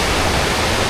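A waterfall in the Konkan countryside rushes loud and close, a dense, steady roar of falling water with no break and no voices.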